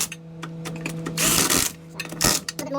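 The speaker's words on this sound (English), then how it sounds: "when you're tightening up your lug nuts, you want to do it in a star pattern" Lug nuts are tightened on a Ford wheel during front coil spring work on a Ford Bronco or F150. Close, choppy bursts of mechanical whirring and clicking come in uneven spurts.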